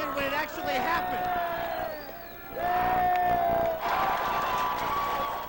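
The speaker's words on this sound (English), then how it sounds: "The big cheer when the Giants went ahead." A sports bar crowd of Giants fans erupts in cheers, whoops and applause, swelling in loud waves with shrill whistles and excited voices mixed through the din.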